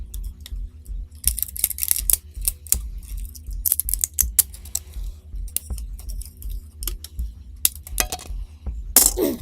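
Snips cutting the support raft away from an Anet A8 3D print, a series of sharp, close clicks and crisp snaps in irregular bursts, with a louder crackle near the end.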